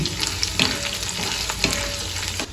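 Byadagi and Guntur red chillies, broken into pieces, fry in a hot oil tempering for puliyogare powder, giving a steady close sizzle and crackle with stirring scrapes throughout.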